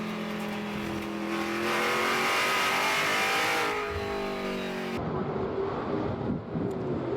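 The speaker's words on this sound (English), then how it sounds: "as we ride on board with Jim Guthrie, Guthrie's Garage Ford Mustang" Guthrie's Garage Ford Mustang race car, heard onboard through the Laguna Seca corkscrew in a Trans Am race, its engine droning loud and close with rising and falling pitch, then a harsher engine tone after an abrupt change.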